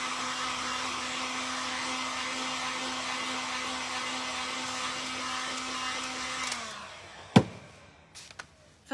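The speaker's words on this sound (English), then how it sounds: "So I'm now just going to grab my sander and I'm just going to distress them." An electric sander buzzing steadily against painted pumpkin lolly jars, a close, constant whirring hum for several seconds that then winds down and stops, followed by a few sharp knocks and clatters.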